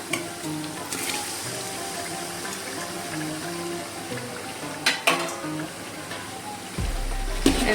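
Tomatoes and green chillies fry in a pot of mutton biryani, with a steady close sizzle broken by a few sharp stirring clanks and a louder rush near the end, with no talk.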